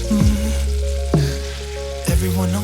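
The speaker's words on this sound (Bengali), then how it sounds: "এবার ভালো করে এটাকে মিক্স করে নেব আর ফ্রাই করব।" Poppy seed fritters (posto bora) frying in a pan, a steady oil sizzle with three short clinks or scrapes from a utensil spaced about a second apart, close and fairly loud, no voices.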